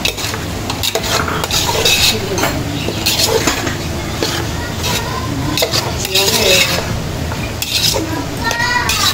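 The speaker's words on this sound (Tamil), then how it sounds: "கிண்டி விட்டு இன்னும் ஒரு 5 நிமிஷம் அப்படியே வதங்கட்டும்" A spoon stirs mutton curry in a metal pot, scraping and clinking steadily against the pan with a light sizzle of frying underneath, close and fairly loud, while people talk in the background.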